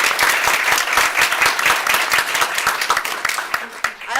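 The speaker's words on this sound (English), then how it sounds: "So can we give them a round of applause for their listening?" A school board meeting audience claps together in a steady, dense round of applause that holds strong for several seconds and thins slightly toward the end.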